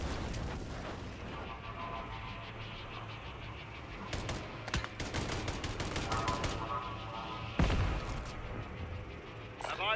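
Sidewinder gun firing in Call of Duty, a slow, hard-kicking weapon: spaced, irregular bursts of heavy shots with a louder blast near the end, over busy in-game background noise and some voices.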